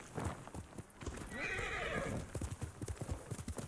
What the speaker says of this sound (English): Quit whining, horse.